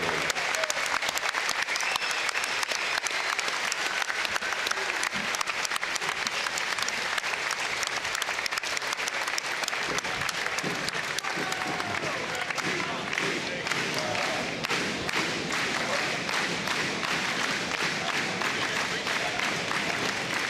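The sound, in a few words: audience applause for boxers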